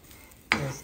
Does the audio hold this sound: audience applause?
no